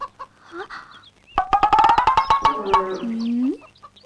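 Chickens cluck and squawk close by in a rapid burst of loud, agitated calls, a comic movie scene with faint voices around them.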